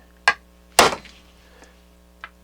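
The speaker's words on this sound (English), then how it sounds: "Punch and hammer." A metal punch driven by a hammer to stake a part on a Harman Kardon 330B stereo receiver, worked on carpet. Two sharp, close metallic strikes come a half-second apart, then a lighter tap follows.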